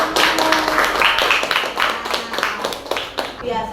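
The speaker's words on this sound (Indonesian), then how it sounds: "Beri tepuk tangan untuk teman-teman." Group of people clapping together at a school coaching session, lively, fairly loud hand claps in an irregular burst across the whole moment, with some faint voices mixed in.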